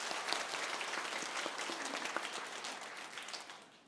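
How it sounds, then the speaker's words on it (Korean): A church congregation at a Christmas celebration service applauds in praise: a soft, even wash of many hands clapping at a distance, holding steady and then tapering off at the end. "우리 다시 한번 영광의 박수를 올려드리겠습니다"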